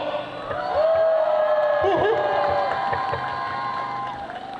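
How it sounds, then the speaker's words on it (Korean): Crowd cheering and applause at an election campaign launch rally for a National Assembly candidate in Dangjin, a steady, loud wash of clapping and whooping voices with some shouted tones throughout. "우리 힘찬 박수와 함성으로 우리 서로 격려하겠습니다"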